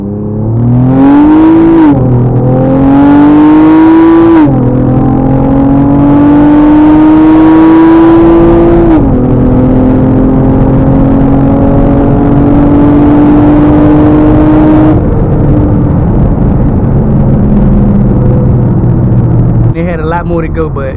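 A Honda Accord accelerates hard on a highway, its loud engine note climbing steadily through several gear changes over about twenty seconds, with a rising whine and deep roar up close.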